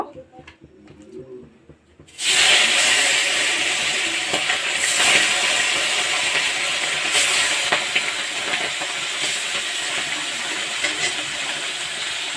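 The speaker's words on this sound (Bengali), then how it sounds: "এখন আমি মাছগুলো ভেজে নেব কড়াই বসিয়ে দিয়েছি তেলও গরম হয়ে গেছে" Small puti fish dropped into hot oil in a wok start frying after a brief quiet moment, bursting into a loud, continuous sizzle with crackling spikes that slowly eases.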